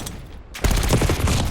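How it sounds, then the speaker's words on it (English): The Archangel killstreak in Call of Duty opens fire after a quieter lead-in, erupting into a loud, dense volley of rapid shots and impacts that carries on without talk. "Archangel prepping fire."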